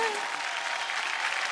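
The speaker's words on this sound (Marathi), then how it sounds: "चला जोरदार टाळ्या होऊन जाऊ दे" Audience applause on a Marathi television show stage, a dense, steady clapping from a studio crowd filling the whole short moment with no pauses.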